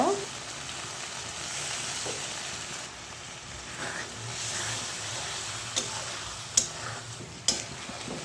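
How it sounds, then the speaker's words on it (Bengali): Spice paste of cumin and ginger paste, turmeric, salt and chili powder with a little water sizzles steadily in a pan. A few sharp clicks of stirring are heard near the end. "মশলা ভালোভাবে কষিয়ে নেব।"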